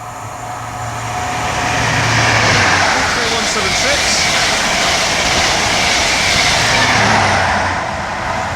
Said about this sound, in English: the next train to pass by is the Great Western Railway High Speed train service from London Paddington to Plymouth